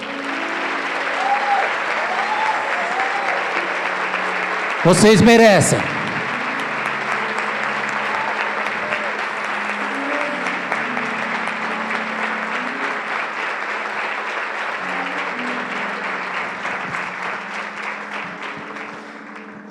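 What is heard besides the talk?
congregation applauding in church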